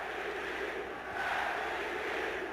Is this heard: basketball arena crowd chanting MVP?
yes